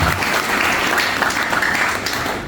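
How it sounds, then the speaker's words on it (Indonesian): Loud, dense applause from a church congregation at an evening service, sustained and even for a couple of seconds. "tepuk tangan dulu yang meriah"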